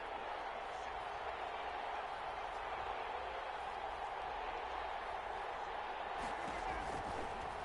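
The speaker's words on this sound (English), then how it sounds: "the crowd getting into it as we come up on a big 3rd down" A broad, steady crowd roar fills a stadium in an American football video game ahead of a big third down, a constant wash of cheering with faint talk blended in.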